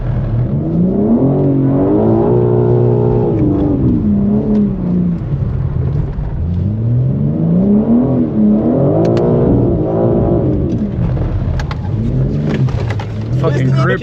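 A BMW G82 M4 engine revs hard while drifting, its pitch sweeping up and down in long rising and falling waves, close and loud, with people talking over it.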